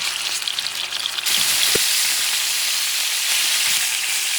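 Beef neck bones sear in a pot over medium-high heat, a loud continuous sizzle that jumps up after a second, with a brief clunk and light scraping; no one talks.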